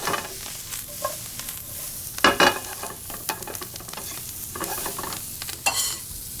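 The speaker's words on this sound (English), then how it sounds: "You can start to really smell the shallots getting toasted off in this bacon" Shallots and bacon sizzle in a pan under steady frying noise, with clattering stir strokes, the loudest burst in the middle and a few more scrapes later on.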